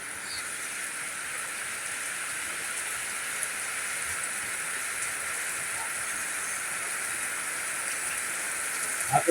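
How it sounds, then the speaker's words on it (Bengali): Steady rain falls with an even, broad hiss that holds without a break throughout, moderately loud with no voices, and a few soft drips stand out near the end. "এখন আবার বৃষ্টি আরম্ভ হয়ে গেছে।"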